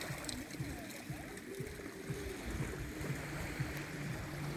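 Calm, clean sea water gently lapping at a beach shore where people stroll and relax, a faint steady wash of water with voices in the background.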